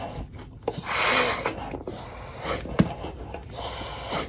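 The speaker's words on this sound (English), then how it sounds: "I'm just gonna check the seal real quick, and then I'm gonna strap it on" Rubbing and rasping of a gas mask being pulled on and its rubber seal checked, close up, with soft breathy puffs and a sharp tap near the middle; no speech.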